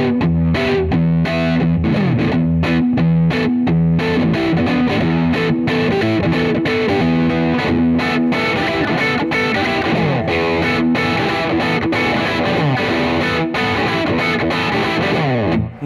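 A heavily distorted Maton BB1200JH electric guitar plays a chugging riff of chords and single notes, thick and saturated throughout.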